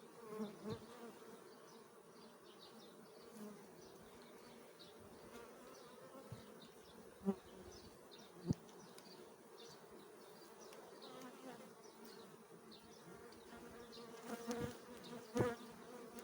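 Steady, dense buzzing of many honeybees close by at an open hive, with occasional louder individual bees passing near and faint clicks of handling.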